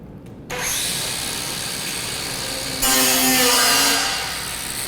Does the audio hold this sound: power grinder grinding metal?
yes